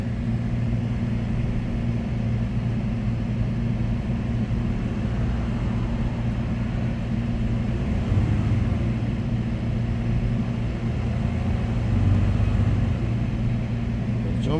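A Dodge/Chrysler 3.6L engine runs close by at a steady, fairly quiet idle, with a couple of small bumps in engine speed when the gas is pressed, with no talking.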